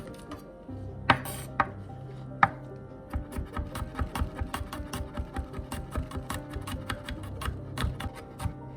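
A knife mincing pressed garlic cloves on a cutting board, a few sharp knocks first, then a fast steady run of close rhythmic chops.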